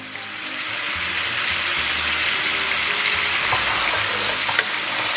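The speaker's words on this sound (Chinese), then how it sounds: "再给它简单煸炒一下。" Pork ribs seasoned with Sichuan pepper powder, ginger powder, star anise powder and thirteen-spice are stir-fried in a pan. A loud, continuous sizzle runs throughout, with light stirring scrapes and no talking.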